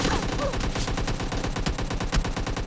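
Rapid automatic gunfire in PUBG Mobile Lite, a dense, continuous stream of loud shots fired close at a steady rhythm for the whole stretch.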